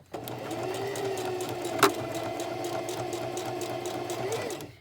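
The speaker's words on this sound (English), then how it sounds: "A lot of people have never sewn on a machine before." Sewing machine stitching fabric for a homemade face mask, a loud, steady rapid needle chatter running continuously with one brief sharp knock partway through, no talking.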